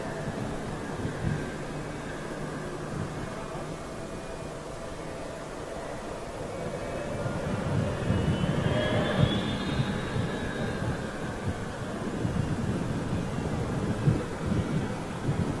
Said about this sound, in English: Big set of engines for such a small aircraft.